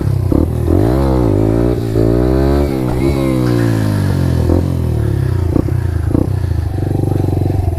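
A Lexmoto Adrenaline motorcycle revs hard with swooping rises and falls in pitch as the clutch is dumped to lift the front wheel, followed by a loud sustained engine drone with some clatter.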